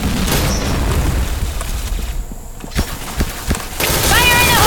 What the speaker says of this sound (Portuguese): Tem que tirar a granada nessa